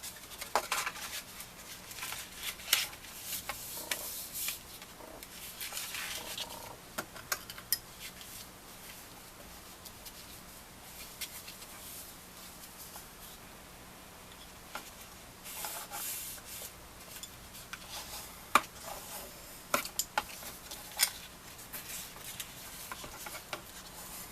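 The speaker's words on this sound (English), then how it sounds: "You just really can't burnish too much." Paper being burnished for card inserts, soft intermittent rubbing and scraping strokes with occasional small taps, close but quiet over a low steady hum.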